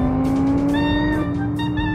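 An Audi R8 V10 mod in GTA San Andreas drives at speed, its engine holding a steady high drone that shifts in pitch partway through, loud and alone without speech.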